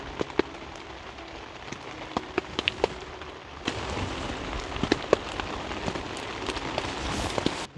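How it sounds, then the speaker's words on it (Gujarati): Rain patters steadily at a forest campsite, with sharp individual drops striking nearby surfaces before the downpour thickens into a denser, louder hiss partway through. "વરસાદ આવવા માંડ્યો ફાસ્ટ."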